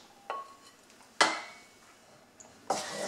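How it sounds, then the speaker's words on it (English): A utensil stirring a millet flour mixture in a bowl, a few sharp scraping knocks against the bowl with quiet gaps between them, close and alone. "I put the mixture in here and I've just been stirring it to try and get most of the chaff out"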